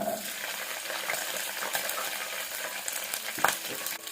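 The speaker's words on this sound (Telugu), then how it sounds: "తర్వాత అందులోనే సన్నగా కట్ చేసి పెట్టుకున్నటువంటి పచ్చిమిర్చి ముక్కల్ని వేసుకోవాలి" Chopped green chillies frying in oil in a pan with onion pieces: a continuous close, bright sizzle with faint stirring clinks, steady throughout and without speech.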